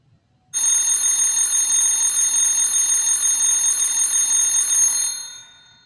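A loud electronic alarm rings in a continuous bright buzzing tone for about four and a half seconds, starting abruptly and cutting off with a short fade.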